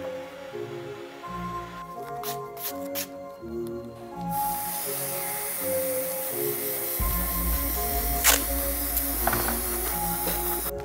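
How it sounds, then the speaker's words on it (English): An airbrush sprays off-white paint onto the back tab of a worn Jordan 3 sneaker during a restoration, giving a steady, close hiss that runs alongside low mechanical hum and brief clicks. "airbrush this back tab to like an off-white color to match the age of the shoes"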